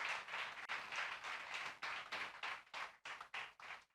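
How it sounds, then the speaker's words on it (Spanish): Applause from a church congregation fills the space, steady dense clapping that swells and dips, heard from a little distance and fairly quiet. "Son aplausos para Dios."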